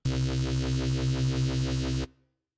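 A sustained drum-and-bass synthesizer note from a default preset, with a steady pulsing wobble, holds for about two seconds, then cuts off with a brief fading tail.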